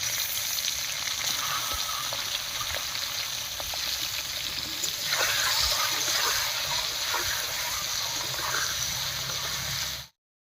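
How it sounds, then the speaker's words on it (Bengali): Eggs frying in mustard oil in a kadai give a continuous close sizzle with soft crackles and spatters, which cuts off abruptly at the end. "এবার কড়াইতে সর্ষের তেল দিয়ে ডিমগুলো ভেজে নেবো"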